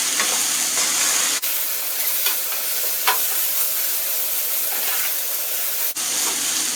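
Spices with salt and black pepper being stirred in a hot pan for chicken fried rice, a constant close sizzle and hiss with scraping stir strokes and two sharp clicks of the utensil against the pan, no talking.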